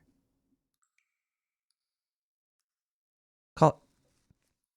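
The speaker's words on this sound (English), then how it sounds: "I heard like a weird clicking noise." One short, sharp click breaks an otherwise near-silent stretch, followed by a much fainter tick a moment later.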